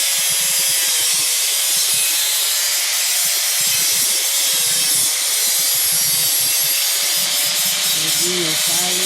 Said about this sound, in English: Do your filing.